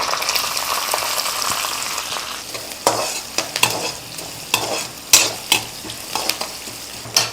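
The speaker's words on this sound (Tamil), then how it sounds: "இப்போ நான் தாளிக்கிறதுக்கு கொஞ்சம் ஒரு 1/2 வெங்காயம் கட் பண்ணி வச்சுருக்கேன்" Chopped onion sizzles in hot oil as a tempering for a South Indian kara kuzhambu, a close, steady frying hiss broken by repeated scraping strokes of a spoon stirring in the pan.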